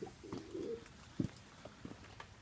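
A pigeon coos softly outdoors in the rain, a low murmuring call followed by a couple of short separate coos, faint and fairly near over quiet background patter.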